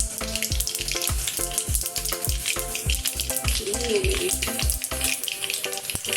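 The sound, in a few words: cumin seeds sizzling in hot oil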